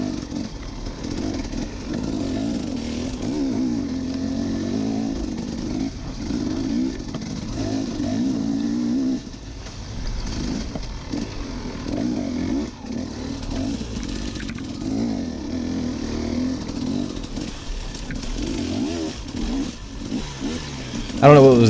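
An enduro motorcycle accelerates along a wide trail section during a race, the engine droning loud and steady throughout with a sustained mid-pitched roar and a small surge near the end.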